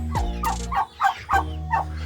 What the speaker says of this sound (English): local turkeys